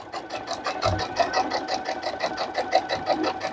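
A sewing machine top-stitches a fabric potholder, its needle running in a fast, even, regular chatter at close range, with no talking.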